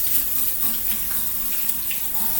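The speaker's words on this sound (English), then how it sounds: "I'm going to wash my hands real quick." Tap water runs steadily into a sink for handwashing, a continuous close hiss and splash with no talk over it.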